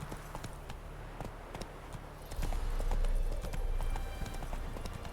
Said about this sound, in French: Je voulais appeler mon cheval.